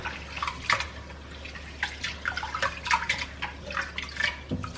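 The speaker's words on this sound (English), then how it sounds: "I'm going to rinse this out twice, or you just rinse it out until you get clear water." Moist Thai rice being rinsed under a running tap, with water splashing and trickling in irregular bursts over a steady faucet flow, close and fairly quiet.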